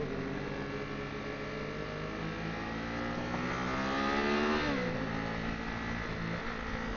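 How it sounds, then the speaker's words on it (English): A Chevrolet Corvette C8 Stingray engine revs nearby, a steady droning note that climbs in pitch and loudness toward the middle, then drops sharply and settles again, heard over road and wind noise. "Well, we got us a Corvette."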